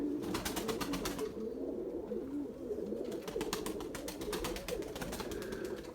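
A Gökbey pigeon coos in a steady low murmur across the whole stretch, close and continuous, with faint rhythmic clicking in the background.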